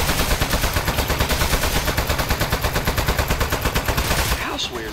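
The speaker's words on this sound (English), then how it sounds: "so it looks like we do have to shoot or we'll lose turrets" Rapid automatic gunfire from turrets in the video game Aperture Desk Job, a loud, steady stream of shots pulsing evenly for several seconds before cutting off near the end.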